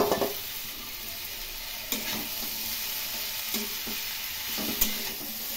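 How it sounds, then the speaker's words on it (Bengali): Cabbage is tipped into spiced potatoes for a Bengali-style cabbage curry and fries with a steady close hiss, broken by a few sharp scrapes and knocks of the stirring spoon against the pan. "এখন এর মধ্যে বাঁধাকপিগুলো দিয়ে দিলাম।"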